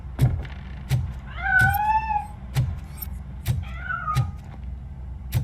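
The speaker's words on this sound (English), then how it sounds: "That cat must be hiding inside." A cat in the RoboCop: Rogue City video game meows twice in rising, wavering cries over a steady low rumble punctuated by regular sharp clicks or steps.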